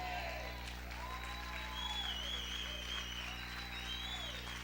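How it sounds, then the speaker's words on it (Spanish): A church congregation claps and cheers during a sermon, a steady wash of applause with a constant low hum underneath and voices rising over it. "Aplaude fuerte al Señor."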